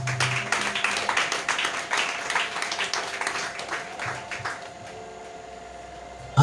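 A church congregation claps and cheers in acclaim for Jesus Christ, sustained rhythmic applause from a crowd that thins out toward the end.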